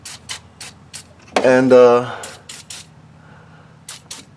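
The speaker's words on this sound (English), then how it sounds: "just going to give everything a little spray in here" PB Blaster penetrating catalyst is sprayed onto bolts while replacing a fuel pump on a 2003 Nissan Frontier 2.4L 2WD, giving several short hissing bursts from the can, with someone briefly speaking between them.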